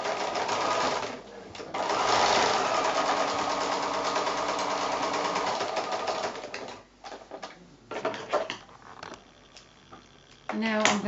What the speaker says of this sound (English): So I'll just take this to the machine now and sew down there.